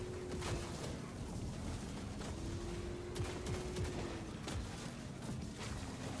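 Gunfire in the vehicular combat game Warhammer 40k Speed Freaks crackles in rapid repeated bursts over a constant roaring engine drone, faint in the mix and dense throughout, with no talk.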